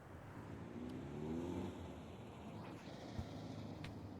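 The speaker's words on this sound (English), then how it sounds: "Ambient car sounds." Ambient car noise in the video game Counter-Strike 2 on the Mirage map: a faint, distant engine revving and rolling past, quiet and steady with a small knock near the end.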